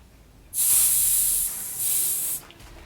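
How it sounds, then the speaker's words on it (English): Air hisses out of a mountain or hybrid bike's inner tube as the pin in the Schrader valve is held down. A loud, steady hiss runs for about two seconds, dips briefly in the middle, then stops abruptly. "You want to depress that pin and release all the air."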